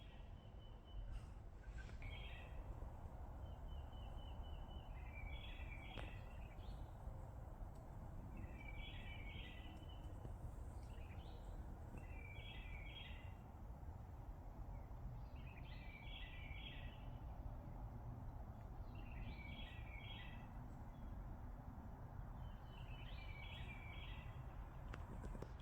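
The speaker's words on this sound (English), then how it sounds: "Listen to the birds." Birds singing outdoors near water in Austin, Texas: a repeated short chirping phrase recurs every couple of seconds, faint and distant over a steady wash of background noise.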